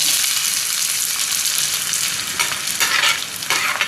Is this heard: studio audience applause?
no